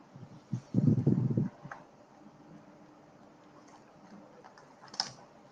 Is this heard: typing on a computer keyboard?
yes